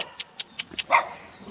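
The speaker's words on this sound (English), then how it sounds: "Dogs, guys, dogs." Dogs barking in Samdur Village, a series of sharp evenly spaced barks followed by a longer yelping bark, moderately close with quiet surroundings and no talk.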